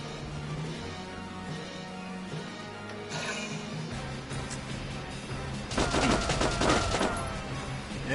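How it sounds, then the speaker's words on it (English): In Valkyria Chronicles 4, an engineer and a soldier open fire. A low drone and background sound play under it before a dense, crackling volley of rifle shots breaks out near the end. "Oh, him and the engineer are gonna shoot."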